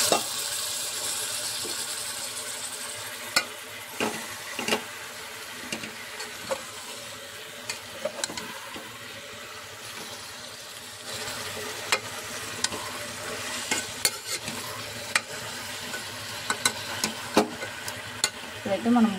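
Gongura leaves sauteing in a pan for biryani give a steady low sizzle with scattered sharp clicks and scrapes of stirring, close and fairly quiet throughout, with no talk.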